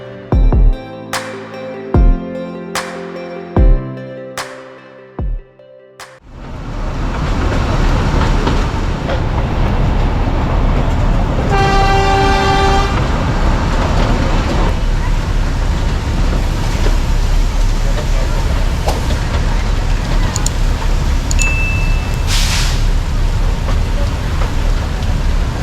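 The Matheran toy train runs through the rain, a steady loud rumble of carriages and wheels on track that starts after a few sharp knocks, with a brief horn-like tone partway through.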